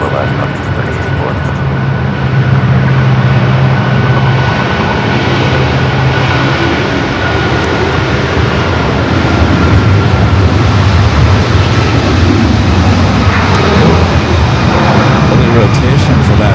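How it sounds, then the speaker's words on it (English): An Airbus A330 airliner takes off at LAX, a loud, sustained engine roar holding steady across the whole stretch, with a voice talking over it. "Early rotation for that A330."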